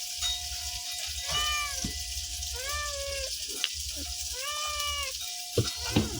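A cat meows three times in drawn-out, rising-and-falling cries, fairly close, with soft rattling and clinks from a household setting between the calls and a couple of sharp knocks near the end.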